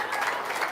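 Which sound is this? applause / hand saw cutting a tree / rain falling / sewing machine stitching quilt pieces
applause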